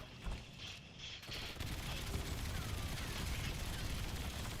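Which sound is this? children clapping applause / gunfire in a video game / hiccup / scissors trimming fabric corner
gunfire in a video game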